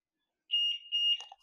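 Graphics card short-circuit power-on test producing electronic beeps: a couple of sharp, high-pitched tones in quick succession, fairly quiet and alone, ending with a brief clatter.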